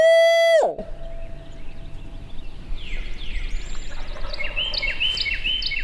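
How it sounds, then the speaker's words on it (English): A wild turkey gobbles on public land in Louisiana during a spring hunt, a single loud close rattling call at the start, followed by quieter distant outdoor ambience and faint bird calls. "Because he was just gobbling, now nothing."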